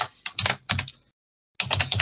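Quick bursts of keystrokes on a computer keyboard, two short clusters of clicks separated by a brief pause, close and clear with no talking.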